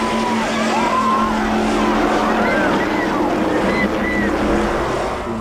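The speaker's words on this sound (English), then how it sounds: "From only 30 feet away, Mike watches his father's horrifying wreck." A sportsman class race car wrecks on the final lap of an oval track race, heard as a loud, steady roar of engines and tire noise that runs unbroken through the whole stretch, with no clear separate impact.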